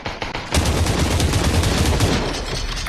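Dense burst of rapid gunfire from multiple weapons in the VR battle royale game Population: One, loud and continuous for nearly three seconds after a brief quieter opening.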